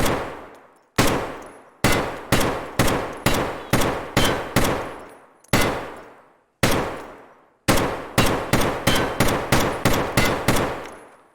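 Rapid bursts of gunfire from a budget weapon build in Escape From Tarkov, loud and close: short automatic strings and single cracking shots separated by brief pauses, each with a sharp decaying tail.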